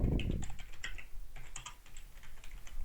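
Quick, light clicks of fingers typing on a computer keyboard, an irregular run of close keystrokes with a brief louder bump at the start.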